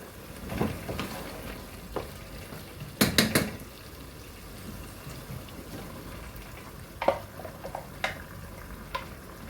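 Ground masala is stirred into chicken curry in a pan, with a soft continuous sizzle and a few scraping, clinking spoon strokes against the pan at irregular intervals.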